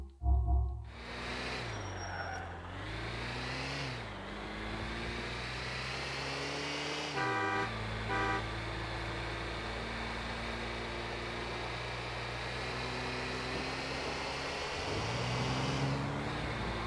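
Car driving in Grand Theft Auto IV: a steady engine drone with rising and falling revs as gears shift, loud and continuous for the whole stretch, with no talk over it.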